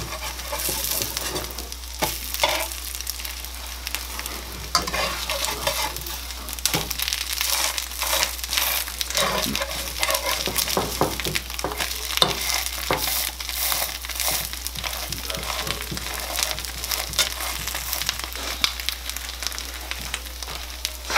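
French toast frying in butter in a pan, giving a steady close crackling sizzle with scattered pops and spatters that runs unbroken throughout, with no talking.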